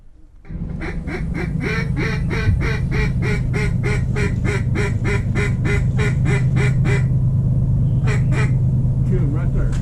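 Ducks quack rapidly and loudly in a steady rhythmic series during a duck hunt in West Tennessee, close and insistent over a constant low rumble, pausing briefly before a few final calls.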